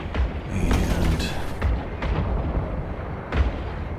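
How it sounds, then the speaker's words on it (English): Spaceship guns fire in the space game Eve Online, a dense run of booming, rumbling blasts with several sharper hits spaced through the passage, loud and continuous with no talk over it. "So we get the guns going,"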